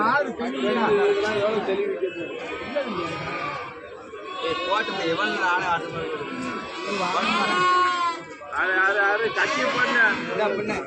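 Goats bleat repeatedly at the Ettayapuram goat market, their wavering calls rising over constant crowd chatter and bargaining voices that carry on throughout.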